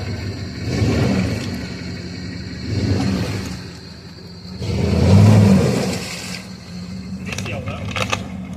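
An off-road Niva or Jeep in a snowy canyon revs its engine in repeated surges while reversing for a run-up, loud mid-pitched roars rising and falling, with voices talking over it.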